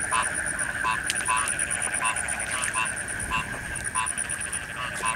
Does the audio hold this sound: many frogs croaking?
yes